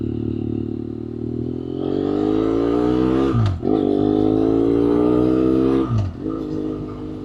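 A BMW F800R naked motorcycle with a cable-operated clutch, engine note running steadily and loud throughout, rising in pitch with brief dips near the middle and end as gears shift.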